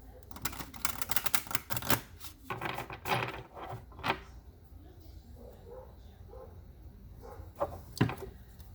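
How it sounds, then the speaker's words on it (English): Rapid, crisp riffling of a deck of cards, several quick bursts of fluttering slaps, close and fairly loud, with brief pauses between. "So, one more shuffle."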